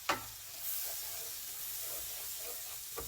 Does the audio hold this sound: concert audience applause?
no